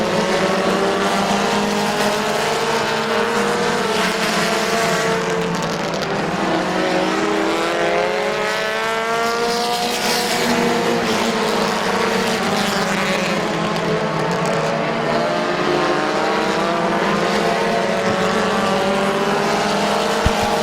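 Race cars roaring around Midvale Speedway, a continuous loud engine drone with rising and falling pitch as several cars pass and circle the track.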